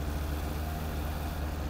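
A car engine idles steadily after a jump-start from a portable booster pack, a low, even rumble with a constant hum, close and continuous for the whole stretch with no talk.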